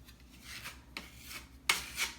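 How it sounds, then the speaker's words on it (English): A putty knife presses spackle into a hole in a wall and wipes it flat, giving several short, close scraping strokes with brief rasping bursts and quiet pauses between them, no voices. "you want to just mash it into the hole like that, and then wipe it off"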